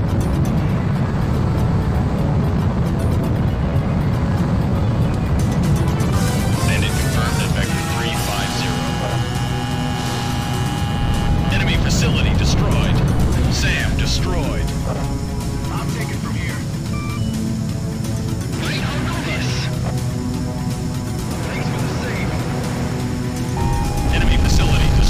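A jet aircraft in a video game throttles up for takeoff, a steady loud engine roar with rising whining tones that builds and swells over a long stretch, with talking over it.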